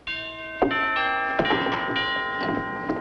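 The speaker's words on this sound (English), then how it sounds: "It's only the doorbell." A doorbell rings out repeatedly in bright bell-like chimes, several struck tones overlapping and sustaining in a steady, resonant sequence.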